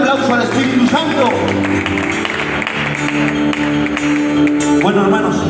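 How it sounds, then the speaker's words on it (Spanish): An audience at a church Bible study claps in dense, steady applause lasting several seconds, mixed with background music and someone speaking over it. "Le damos un fuerte aplauso al Espíritu Santo"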